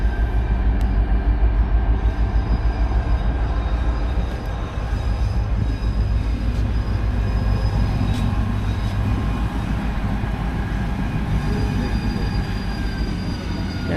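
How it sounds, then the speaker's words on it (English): A train rolls past close by in Skagway, Alaska, with a steady loud rumble of rail cars and faint wheel squeals. No one speaks. "There goes a train."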